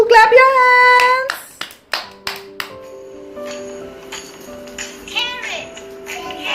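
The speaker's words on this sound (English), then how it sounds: "Clap your hands." Several sharp hand claps ring out in a short irregular burst, close and crisp, after a child sings a few bright notes; a chime-like tone lingers beneath.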